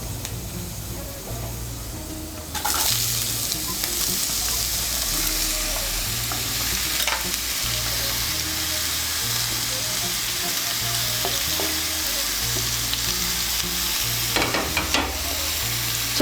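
Thinly shredded ash gourd stirred in hot oil in a pan, a loud continuous sizzle that jumps up after a quieter opening, with intermittent scraping and clinks from the stirring utensil, close up.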